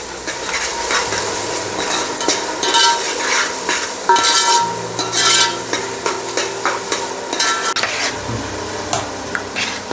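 Loud, close frying, with a pan sizzling while a spoon stirs and scrapes raw tomato puree for pav bhaji in quick repeated strokes. Continuous, with no voices.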